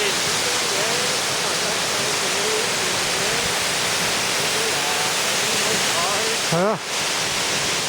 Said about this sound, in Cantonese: 呢度影出個瀑布位啊